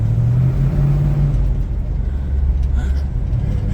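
Throughout, a 1968 El Camino SS 396 on the move gives off a deep V8 rumble that rises and falls as it pulls along, close and loud, with a voice speaking briefly over it.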